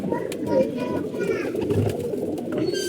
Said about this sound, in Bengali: আমাদের কবুতর গুলো ঠিক আছে, সুস্থ আছে